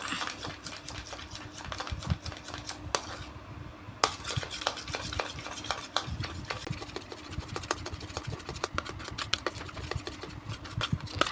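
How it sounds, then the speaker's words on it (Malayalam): A spoon stirs tomato face cream mixed with aloe vera gel in a small bowl, giving a quiet, steady run of soft clicks and scrapes close by. "നല്ലൊന്ന് മിക്സാക്കി എടുക്കാം"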